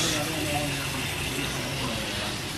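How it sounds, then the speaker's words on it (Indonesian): Water pours steadily from a tap or hose onto the potting medium of an imported aglaonema plant, a continuous close splashing and gushing with a voice faintly present underneath. "ini kita siram sampai jenuh di medianya"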